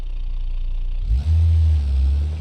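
A modded hopper truck engine in BeamNG.drive idles low, then revs up sharply into a deep, loud, steady roar that holds to the end.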